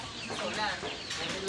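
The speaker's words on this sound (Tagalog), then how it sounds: "Gansa pala." A goose calls near a fishing spot for tilapia and catfish, sounding as a run of short, raspy honks and clucks with wind noise beneath and no clear speech over it.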